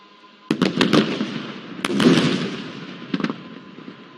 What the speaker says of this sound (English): Please watch area F-fuel dumps at Tango 4, Tango 5 on the left, and Tango 8 and Tango 9 on the right for incendiary strikes